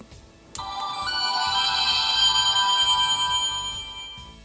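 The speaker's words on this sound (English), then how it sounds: "it makes a really nice shimmer sound" A toy magic wand's shimmer sound effect, triggered by a button on the handle: a sudden bright, sustained twinkling chime that rings steadily for several seconds, then fades out, clear and close.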